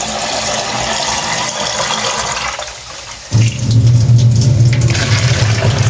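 Water from jugs pours and splashes into masala cooking in a pot, a loud, steady gush that dips for a moment and then comes back stronger and deeper, heard alone and up close.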